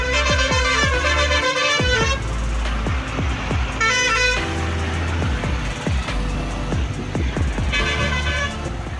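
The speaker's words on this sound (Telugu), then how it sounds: "వచ్చేసరికి ఇక్కడ మోర్ దాన్ ఒక 1 కిలోమీటర్ దాకా ట్రాఫిక్ జామ్ అయింది" Car and truck horns honk repeatedly in a kilometre-long highway traffic jam near Jabalpur, long blaring toots overlapping with shorter beeps and steady engine rumble, loud and close, with no voices.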